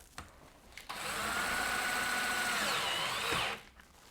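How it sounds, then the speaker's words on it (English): A power drill drives a screw into a friction hinge in one sustained whirring burst of about two and a half seconds, close and fairly loud, with faint clicks before and after. "Get the screwing in the top first."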